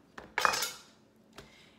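A knife cuts through pumpkin pieces on a board: a few short, sharp knocks and a louder scraping burst up close, then a final tap, with no talking.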